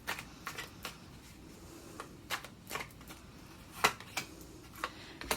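Tarot cards shuffled and drawn from the deck, a run of soft rapid riffling bursts and crisp flicks close by, spaced irregularly with no voice over them.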